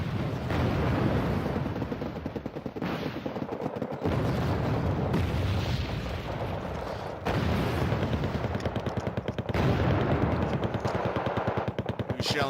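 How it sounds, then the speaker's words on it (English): Artillery shells pound infantry in the video game Wargame, with loud rapid bursts of gunfire and repeated booming impacts layered into a dense, continuous barrage that pauses briefly before resuming. "He's shelling my command infantry"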